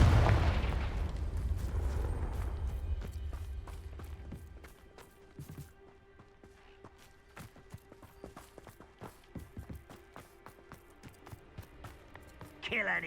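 Blasts of the Confringo fire spell go off in the Hogwarts Legacy game, starting with a loud, heavy boom that fades into a run of sharp crackling impacts, with voices heard under the action.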